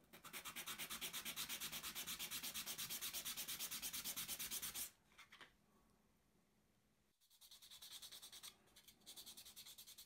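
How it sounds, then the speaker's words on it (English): Sandpaper rubs over the wooden roundhouses of a 1/84 HMS Victory model in quick, even strokes, close and steady for about five seconds, then a softer pause before the brisk sanding resumes. "So now the roundhouses have had a good sand."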